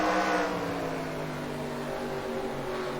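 Stock cars racing into turn one in the NASCAR Racing 2003 game, engines droning loudly together with a steady, slowly falling pitch as the pack roars through, continuous and without talk.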